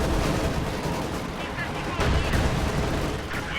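Gunfire and incendiary artillery rumble through a strategy war video game, with dense overlapping shots and a couple of heavier impacts packed into a few seconds of continuous battle noise.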